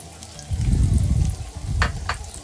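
Garlic, ginger and onion hit hot mustard oil in a pan, a sizzling burst swelling up with a couple of sharp crackles and scrapes toward the end.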